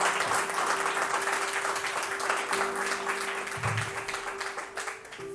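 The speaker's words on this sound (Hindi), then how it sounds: "एक बार जोरदार तालियां बजाइए।" An audience at a Hindi storytelling show gives a loud, sustained round of applause that holds steady for several seconds before tapering slightly, with a faint tone running underneath.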